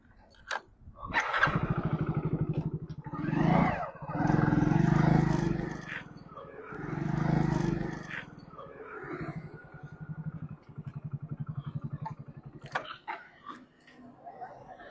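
A motorcycle engine rises and falls as it passes along a road in Vellore, several swells of rumbling over the span, with people talking nearby.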